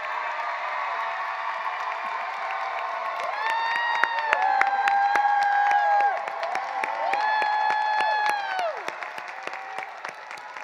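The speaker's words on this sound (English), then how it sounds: "So please stand now, clap, and shout for the graduate that you have on the floor." An audience at a school graduation ceremony claps and cheers, with dense applause joined by loud whoops and shouts that rise and fall in bursts over about ten seconds.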